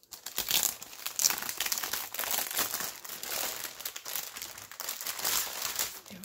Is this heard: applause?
no